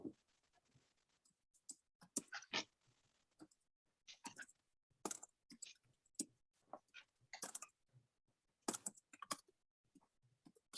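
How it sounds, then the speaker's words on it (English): Fingers typing on a computer keyboard during an online meeting, scattered bursts of light clicks and key taps with short pauses between, close and fairly quiet, no talking. "You'll hear my fingers clicking away here"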